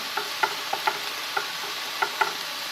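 Mushrooms cooking in a pan give a soft, even sizzle, with light ticking clicks scattered over it, quiet and with no one talking.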